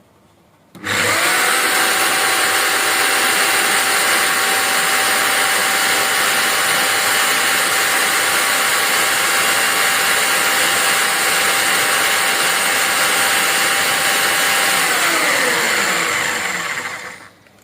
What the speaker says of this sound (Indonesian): Ya, saya ubah modenya ke mode drilling, dia menjadi sedikit lebih cepat, menjadi 1100 rpm.